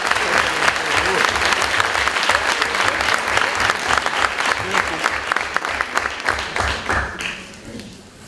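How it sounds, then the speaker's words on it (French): A hall audience at the final of a university eloquence contest applauds a finalist. Loud, dense clapping holds steady for about seven seconds, then quickly dies away into quieter room sound. "Veuillez applaudir Anna très fort, s'il vous plaît."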